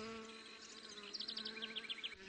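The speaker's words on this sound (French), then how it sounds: "Aux abords d'une ruche d'Aquitaine, on peut ainsi observer jusqu'à 15 frelons à la fin de l'été." Asian hornets (Vespa velutina) hovering beside a beehive in Aquitaine in late summer make a close, steady, harmonic buzz that wavers in pitch and pulses as they hold position.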